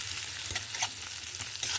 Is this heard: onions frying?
yes